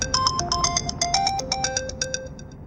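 A telephone plays a bright melodic electronic ringtone in a domestic scene from a TV serial. It repeats a quick pattern of chiming notes, loud and close, with nothing else heard.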